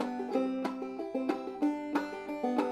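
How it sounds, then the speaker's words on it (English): Banjo notes with sharp percussive clucks from striking the first and second strings together, a quick plucked rhythm of bright attacks and ringing tones, close and clear with no voice. "Do you sometimes strike both the first and second strings at the same time to get a cluck sound?"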